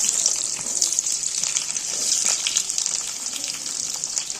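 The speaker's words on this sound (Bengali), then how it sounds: "এবার আমি এই যে পেঁয়াজ যে রয়েছে, পেঁয়াজটা ফার্স্ট ছেড়ে দেবো।" Onions dropped into hot oil sizzle and fry in a pan, a dense, bright hiss that runs continuously and close with small crackling bursts, no voices heard.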